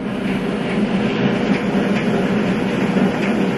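A Halo bassinet sound machine plays a steady, dryer-like whoosh of white noise, loud and even throughout with no breaks or talk.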